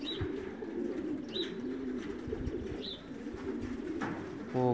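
Racing pigeons coo in a steady low murmur throughout, with a few sharper chirps and a brief rattling flutter near the end, close by and without any talk.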